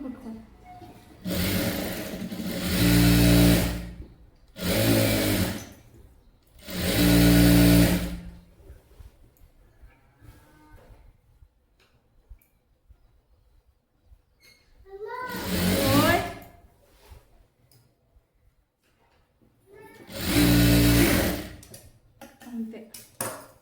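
A sewing machine stitching fabric for a frock, an umbrella-style dress cut from a saree, runs in five separate bursts of a few seconds each with quiet pauses between, close and fairly loud.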